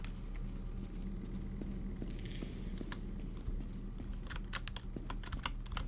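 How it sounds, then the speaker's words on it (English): Rapid clicking of computer keyboard keys as WASD and arrow keys are pressed together while playing a horror survival game, a steady clatter of fairly close keystrokes with no talking. "WSD and arrow keys. I'm pressing both at the same time."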